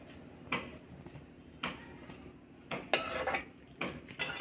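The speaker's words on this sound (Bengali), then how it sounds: "এইভাবে আমি নাড়াচাড়া করতে থাকবো।" Coconut and sugar mixture for narkel naru being stirred in a pan over medium heat, a spoon scraping and clinking against metal in irregular strokes, quiet and close with a soft bubbling background.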